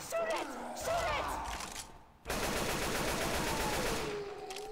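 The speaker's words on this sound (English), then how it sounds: "Shoot it! Shoot it!" Rapid automatic gunfire in the zombie shooter Left 4 Dead 2, a dense crackling burst that pauses briefly and resumes louder and steadier, with game sound effects and voices over it.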